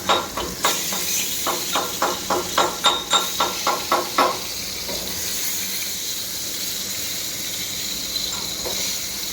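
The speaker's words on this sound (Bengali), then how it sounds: "বেগুন ভাজা হচ্ছে," Eggplant frying in a pan: a quick run of about a dozen evenly spaced taps, followed by a steady close hiss that carries on alone.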